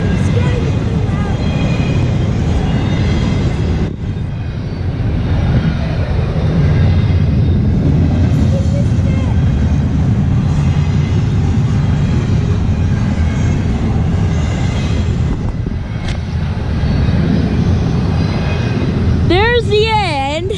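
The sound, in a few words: long CSX intermodal freight train passing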